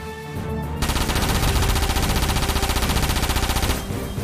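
Rapid machine gun barrage from the Front Mission 4 video game, a dense, loud, evenly pulsing stream of shots that starts abruptly after a brief lead-in and runs for about three seconds before cutting off.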